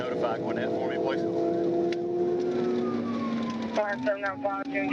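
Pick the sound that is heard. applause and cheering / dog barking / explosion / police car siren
police car siren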